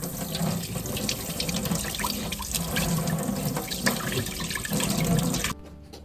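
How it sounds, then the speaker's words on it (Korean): Tap water runs hard into a kitchen sink while beef is rinsed under the stream, a steady close splashing rush that stops abruptly near the end. "흰물을 뺀 소고기를 흐르는 물에 세 번 헹군다."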